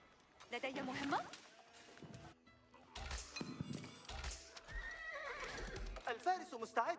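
Horsemen units in a strategy video game neigh and whinny repeatedly amid clip-clopping hooves and battle clatter, with in-game unit voices speaking throughout.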